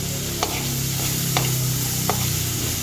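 Food sizzles steadily in a hot frying pan as chopped bell pepper pieces tumble in, with a few sharp clacks of a utensil against the pan.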